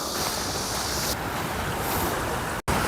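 A strong headwind blows across the microphone by the sea at a fishing spot near a beach, a loud continuous roar of wind buffeting mixed with surf noise and a brief dropout near the end.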